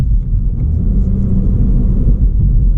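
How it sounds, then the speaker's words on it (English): 2019 MINI Cooper engine on a night drive, a loud low rumbling drone with a slight rise as the automatic rev matching blips the revs, heard close from inside the car, no talking. "Lovely rev matching by Mini itself"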